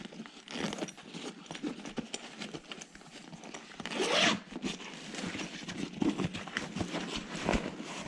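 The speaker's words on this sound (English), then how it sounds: "And again, YKK zipper, self-lubricating." A YKK zipper on a trauma bag pocket is pulled in several quick, close rasping strokes, short zips spaced over several seconds with soft handling rustle between them.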